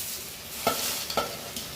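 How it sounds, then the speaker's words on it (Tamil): Curry leaves and other ingredients for kuzhambu hiss steadily in a frying pan, with a few sharp stirring scrapes and pops standing out from the continuous crackle. "எப்படி பொறுன்னு சத்தம் கேட்குது பாருங்கள். இந்த மாதிரி வறுக்கணும்."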